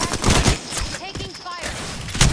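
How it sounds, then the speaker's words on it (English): Rapid video game gunfire aimed at the player, with repeated close shots and bursts over about two seconds, mixed with game effects and talk from players. "Stop shooting at me."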